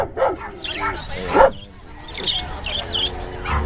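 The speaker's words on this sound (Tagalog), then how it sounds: "may mga parakeet din sila tsaka African lovebirds" At an animal market in Bocaue, Bulacan, parakeets and African lovebirds chirp in quick, thin bursts among nearby dog barks, while people talk over the mix.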